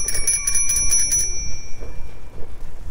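Bicycle bell on a Japanese bike on a bike lane at Hat Wanakorn beach, Thailand, rings in a quick run of about six bright dings over the first second, then the tone decays away over low outdoor rumble.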